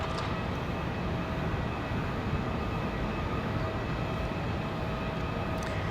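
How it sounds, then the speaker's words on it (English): A Delta Airbus A220-100 airliner arrives at Raleigh Durham airport on a windy day, a steady broad engine roar with wind noise that holds at a moderate level throughout. "Delta 488 coming in next from LaGuardia, an A220-100"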